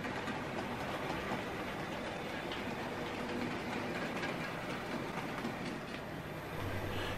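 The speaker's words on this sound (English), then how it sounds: "get your train running" An OO scale model train runs along its track with a steady, continuous whirring rumble and faint clatter, holding at an even loudness throughout with no voices.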